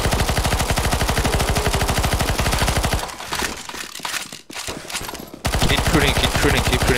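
Rapid automatic gunfire in a CS:GO zombie escape match, loud and close, rattles in a steady stream, drops to scattered distant shots midway, then resumes at full pace.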